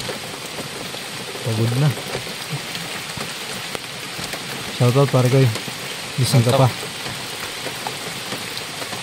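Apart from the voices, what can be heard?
heavy rain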